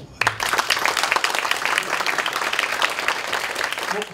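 Audience at the founding general meeting of an East Asian food-culture tourism forum in Seoul breaks into steady, full applause that fills the room for several seconds, with a faint voice near the start.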